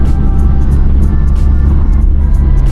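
A Mazda 323 with a weak battery and a repaired distributor drives along; a loud, steady engine and road rumble fills the cabin, with small bumps and rattles and no one speaking.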